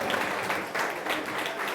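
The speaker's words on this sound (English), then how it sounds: "give him a round of applause" Audience applause at a reggaeton awards ceremony, a dense, steady wash of many hands clapping close by that holds at the same level throughout with no pauses.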